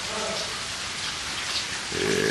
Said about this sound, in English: it's kind of raining out here.